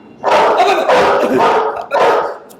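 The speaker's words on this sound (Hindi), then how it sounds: "ये साले कुत्ते बीच बीच में भौंकते रहते हैं।" Dogs barking loudly and close in three or four rough, sustained bursts separated by short gaps.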